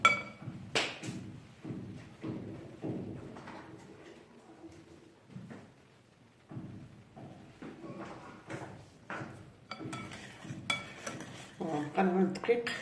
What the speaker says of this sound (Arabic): ونقلب الدقيق شوية بشوية